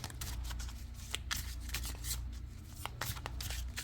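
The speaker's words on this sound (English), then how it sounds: "we are going to shuffle one more time, get a good shuffle going" Tarot cards are shuffled close up, producing rapid, crisp riffling clicks and flutters against a faint background hum.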